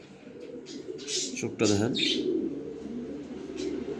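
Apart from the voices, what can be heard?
female racer pigeon cooing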